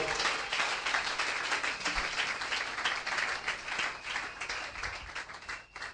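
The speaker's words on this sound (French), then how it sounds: "Si tu crois, soki ondimi si tu comprends, soki ozososola acclame Jésus. betela yesu maboko" A church congregation applauds together during a bilingual French and Lingala service, steady dense clapping filling the room without a break, with a few voices mixed in.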